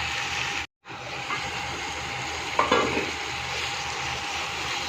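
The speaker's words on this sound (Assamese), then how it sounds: "এতিয়া আমি ইয়াতে ধুনীয়াকৈ মছলাখিনি সোমাব দিম তাৰপিছত আমি ইয়াতে পানী এড কৰিম অলপ সময় এনেকৈ আমি এতিয়া ভাজি ল'ম" Spice masala frying in a pan for a rohu fish curry, a soft continuous sizzle with light stirring close by, briefly cut by a short gap and a slight flare of crackle midway.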